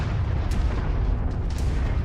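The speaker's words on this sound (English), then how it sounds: "I don't know what the artillery cannons are shooting at" Artillery cannons firing in the MechWarrior 5 video game, a dense continuous rumble of booms and blasts, loud and sustained, with a few sharper cracks breaking through and no talking.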